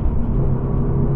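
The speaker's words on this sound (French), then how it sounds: "on entend bien le moteur rugir" A Toyota GR86 sports car engine roars while accelerating, a loud, low rumble droning steadily at close range, deep and throaty, with no voices over it.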